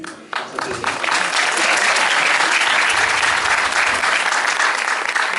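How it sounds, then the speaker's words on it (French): An audience at a film premiere breaks into sustained applause, starting with a few claps and swelling within a second into dense, steady clapping that continues to the end. "j'applaudis comme Céline Dion"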